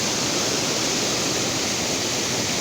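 Rushing water at Tenwek Waterfalls beside a hydroelectric plant, a steady, loud, broadband roar that holds unbroken throughout with no voices.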